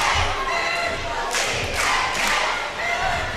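A crowd at a high school basketball game roars and yells in bursts, with thuds and loud cheering swells rising over the continuous gym noise.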